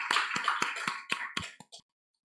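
A church congregation claps together in a steady rhythm, about eight evenly spaced, fairly close claps during a worship service, then falls silent.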